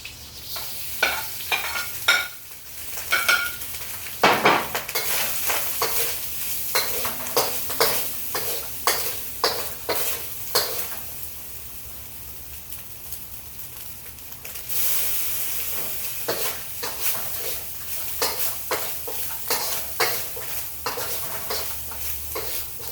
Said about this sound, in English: now we're going to fry the rice.